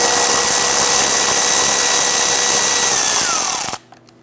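A power tool whines steadily as it backs out the 8 mm screws along the bottom of the radiator on a 2011-2019 Ford Explorer during AC condenser replacement, loud and close, with the motor pitch sliding down before cutting off near the end.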